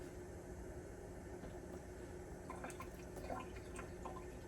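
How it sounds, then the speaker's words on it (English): Tap water runs steadily into a pot for canning beans, a continuous moderate splashing fill with faint dripping and small clinks toward the end. "I turned my water on, not too crazy high."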